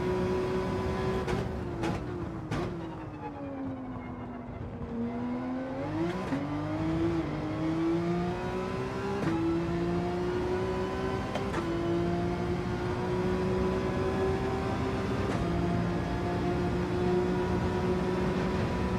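A Porsche race car engine in Gran Turismo 7 drones steadily at close range, its pitch dipping under braking into a chicane and then climbing again as it accelerates, with brief clicks of gear shifts.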